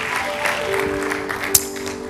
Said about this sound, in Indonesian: beri tepuk tangan buat Allah